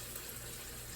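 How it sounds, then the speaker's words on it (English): Water pours steadily into a glass jar of thick meatball sauce, a continuous close gushing fill for about a second with no talk. "I'm going to add just like a half a cup of water to the jar."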